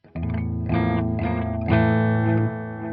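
An electric guitar played through a Zoom G1Xon multi-effects pedal set to a tape echo effect rings out in a few sustained chords and notes with a warm, repeating echo tail. It is loud, close and has no voices.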